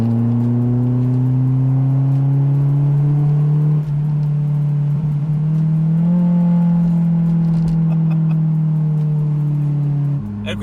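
A Honda S2000 with its 2.0-litre naturally aspirated VTEC four-cylinder revs hard and close, a steady high-pitched wail rising and dipping through several pulls with brief lifts in between.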